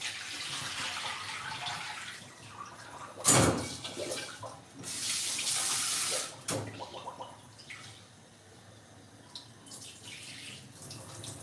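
Rice being rinsed in a sink under a running kitchen tap before cooking Korean-style crispy rice, a steady splashing water stream with louder gushes and clatters partway through, close and alone with no talking.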